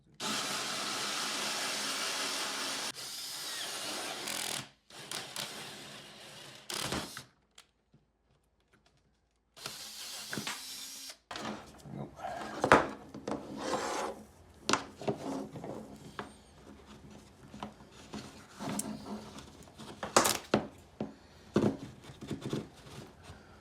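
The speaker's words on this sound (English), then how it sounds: "My cable management grommets came with a 2-inch routing bit, so I'm going to go ahead and drill my hole next." Loud whirring power-drill noise with a 2-inch routing bit boring a hole in a desk cuts in and out in bursts, with a brief pause in the middle, followed by scattered clatter and rattling handling sounds.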